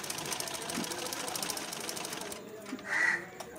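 Sewing machine stitching a blouse shoulder seam, running in a fast, even rattle for about two seconds before stopping, close by, with a voice speaking over it.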